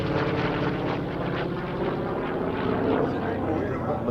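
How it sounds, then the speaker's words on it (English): An FG-1D Corsair propeller aircraft drones steadily with a loud, continuous engine roar at an air show, while someone talks over it. "Here's that magnificent Corsair flown by Lou Horschel"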